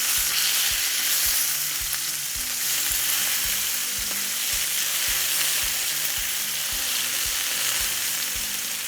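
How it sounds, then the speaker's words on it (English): Salmon pieces fry in a hot pan and are flipped: a loud, continuous sizzle runs throughout, broken by regular soft knocks and scrapes from the turning, with no talking. "we're about ready to flip our salmon now, and we're just gonna flip them onto the side"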